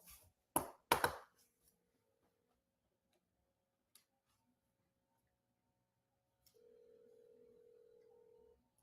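Dialing out to a motivated seller lead by telephone: a couple of sharp clicks open the clip, then near silence with small ticks, followed by a steady tone lasting about two seconds near the end.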